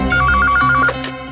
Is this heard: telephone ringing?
yes